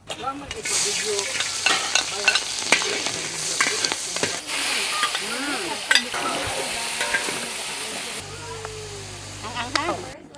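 Lechon belly (pork belly) sizzles and fries in a pan on the stove, a steady loud hiss with stirring scrapes and clatter throughout, a lower hum joining near the end.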